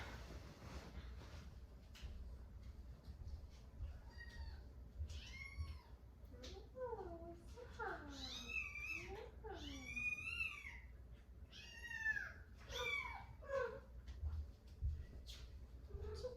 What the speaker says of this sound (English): they're meowing